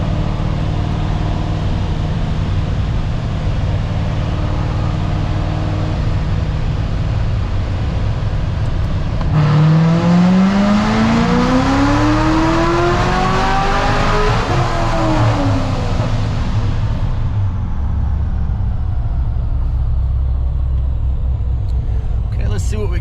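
A C7 Corvette engine pulls hard in 4th gear, a loud rising drone sweeping up in pitch over several seconds before backing off, with steady road and cabin rumble around it and no talk.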